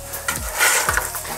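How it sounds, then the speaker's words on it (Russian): Steady sizzling of eggplant frying in oil, with occasional scraping and stirring clicks from a utensil, close by and moderately loud. "Ну все, жарим на готовности."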